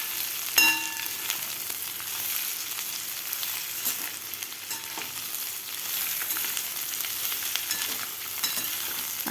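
Sliced potatoes are stirred into onion and spice masala frying in a pan, giving a constant crackling sizzle with occasional sharp clinks and scrapes of a spoon against the pan.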